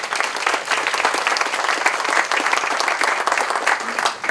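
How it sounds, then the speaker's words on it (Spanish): Dense, loud audience applause at an entrepreneurship ecosystem conference in Peru, a continuous wash of many hands clapping for a startup speaker being introduced to a panel, steady throughout with no pause. "Un aplauso para Amparo, por favor."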